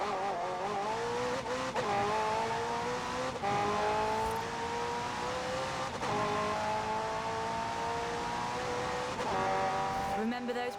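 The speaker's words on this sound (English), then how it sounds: "The car's blistering performance is delivered by a twin-turbo V8, supplemented by a McLaren ECU electric motor and instant power assist system" McLaren hybrid supercar with a twin-turbo V8 and electric motor accelerating hard in Forza Horizon 4, engine rising repeatedly through gear changes with sharp shift cuts, loud and close, with a narrating voice over it.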